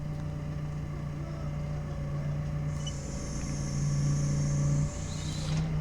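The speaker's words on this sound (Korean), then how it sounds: "이 지게차 엔진음 때문에" A forklift engine idles and runs steadily at close range throughout, a constant low drone with a slight rise in intensity toward the end, no talking over it.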